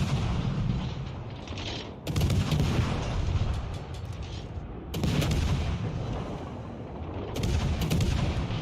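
Naval guns boom in World of Warships Legends, heavy salvos erupting roughly every few seconds with rumbling tails and mechanical clatter, loud and close, with no voice over them.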